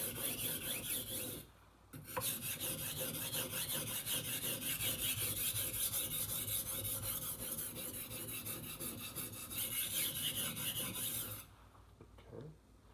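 A knife is drawn back and forth across a sharpening stone in a steady, continuous gritty rasp, close and fairly quiet, broken by two short pauses.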